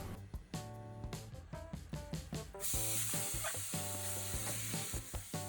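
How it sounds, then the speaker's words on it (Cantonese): Penang char kway teow stir-fried in lard in a wok, with a steady loud sizzle, rhythmic spatula scrapes and clanks, and a rising hiss of steam partway through. "第一，一定要用豬油去炒。"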